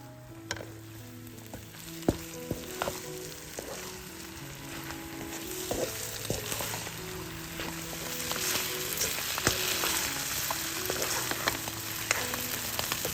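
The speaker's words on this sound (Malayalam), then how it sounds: "2 തണ്ട് കറിവേപ്പിലയും ചേർത്ത് നന്നായി ഇളക്കുക." Beef roast with coconut oil and curry leaves frying in a pan, a low sizzle with sharp spoon clicks and scrapes as it is stirred, fairly quiet and without talk.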